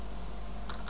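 Two or three light, quick clicks of a computer keyboard key being pressed, close and crisp over a steady background hiss.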